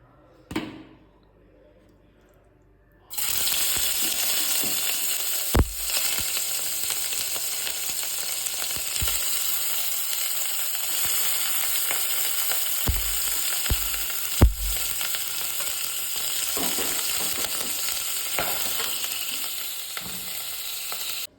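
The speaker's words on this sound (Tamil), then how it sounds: "பாத்திரத்தில் கொஞ்சமாக தேங்காய் எண்ணெய் ஊற்றி அந்த எண்ணெய் கொஞ்சம் சூடானதுக்கப்புறமா தனியாக எடுத்து வச்சுருக்கிற நெய்யை அதில் போட்டு நல்லா வரட்டணும்" Pork and reserved fat fried in a pan of hot coconut oil, sizzling steadily for about eighteen seconds after a quiet start, with occasional clinks and stirring knocks over the constant hiss.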